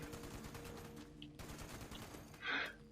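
Rapid automatic gunfire rattles in the video game Fallout 76 during a fight against cultists. The bursts are fairly quiet and distant, followed by a louder, sharper blast near the end.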